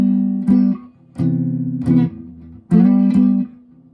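A guitar plays the intro chord of a song and slides back to its starting position. It makes four clear, ringing strums in a moderate rhythm, each sustained briefly before the next, played close and alone.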